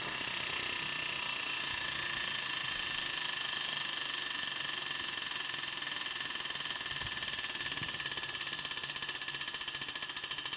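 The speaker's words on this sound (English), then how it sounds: "Big wheel spin for you." A big prize wheel spins with a rapid, even ratcheting click that runs throughout and slows slightly near the end, close and steady, with no one talking.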